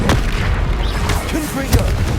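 Incendio fire spell cast in the video game Hogwarts Legacy: a loud, dense boom-like burst of fiery rumble filling the whole short moment, with faint game noises underneath.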